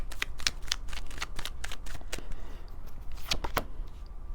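Tarot cards being shuffled close by, with a quick series of crisp riffling and flicking bursts that keep coming irregularly throughout, with no talking.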